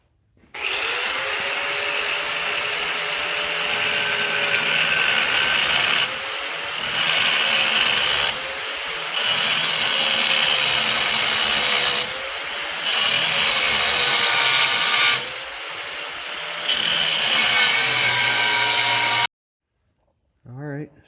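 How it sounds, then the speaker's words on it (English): A 4-inch angle grinder cuts and grinds metal for a trailer hitch on a Kubota zero-turn mower, giving a loud, steady whine that dips briefly several times as it bites the workpiece, then stops abruptly near the end. "I'm going to slice these 2, cut it off, and then grind that."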